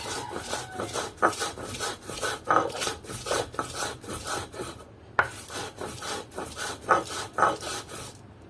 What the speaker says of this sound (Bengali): লবণ কাঁচামরিচ একসাথে বেটে নিতেছি।